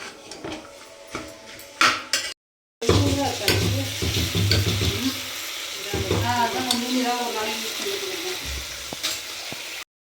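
Beans and carrots cook in bubbling masala, hissing and sizzling up close while a spoon stirs and scrapes against the pot, broken by a brief silent gap.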